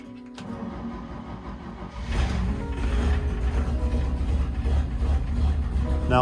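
A Chevrolet C10 pickup running on choke and fed from a gas can, cranking briefly and then catching into a loud, rough, rumbling idle that holds steady up close.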